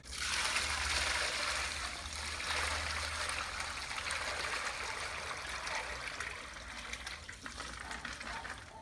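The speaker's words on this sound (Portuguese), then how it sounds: "agora com a mangueira a gente vai tirar um pouco do cloro, lavando um pouquinho mais esse substrato" A garden hose runs water into a bucket to rinse orchid substrate, giving a steady close splashing rush that eases slightly toward the end, with no talk.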